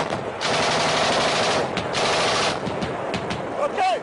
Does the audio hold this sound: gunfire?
yes